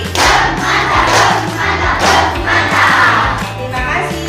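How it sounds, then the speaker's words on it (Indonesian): Schoolchildren in an elementary school classroom shout a rhythmic clapping cheer together, a loud and continuous group chant with claps running through the whole stretch. "Kasih tepuk mantap untuk anak-anak."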